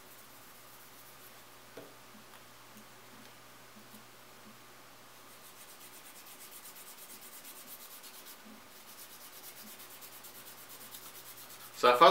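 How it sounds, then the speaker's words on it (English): Sanding sticks rubbing on a Tamiya 1/35 Jeep plastic model kit, moving from medium to fine grit: a soft, steady scratchy rubbing close up, quiet and continuous with a sharper burst at the very end. "These sanding sticks are really good. I start with a medium and then I'm working my way up to a fine or an extra fine"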